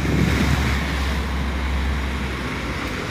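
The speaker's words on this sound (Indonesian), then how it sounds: "Air ni masuk daripada Sungai Pahang," Floodwater from the Pahang River surges across a flooded roadway area in Temerloh, a steady broadband rushing wash with wind buffeting the microphone, loud and continuous with no voices.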